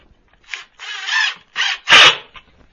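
Screws driven into a wooden garden bed corner with a power drill, four short whirring bursts separated by brief pauses, loud and close, the last burst the strongest.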